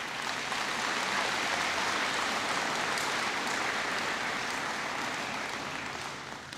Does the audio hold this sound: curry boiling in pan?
no